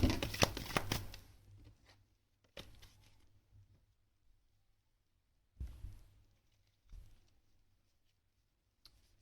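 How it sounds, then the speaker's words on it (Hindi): Tarot cards shuffled close up in several quick, papery riffling bursts separated by short silences, with no talking. "चलिए लेट्स सी 3 शफल्स करते हैं और देखते हैं आप लोगों के लिए कार्ड्स में क्या आ रहा है"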